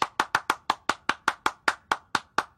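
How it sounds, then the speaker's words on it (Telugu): About thirteen crisp hand claps in an even, steady rhythm, close and loud with no voices. "చప్పట్లు కొట్టండి"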